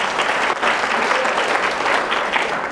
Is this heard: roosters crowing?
no